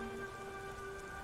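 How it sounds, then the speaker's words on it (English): Steady rain pattering in the video game Beyond Two Souls, a brief, even wash of drops mixed with sustained tonal background sound. "God damn rain"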